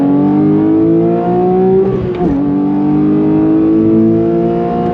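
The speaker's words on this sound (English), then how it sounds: "On throttle, here we go." 2022 Porsche 911 GT3 engine pulling hard on throttle, a loud, close flat-six wail with rising harmonics, a brief shift break near the middle, then climbing again.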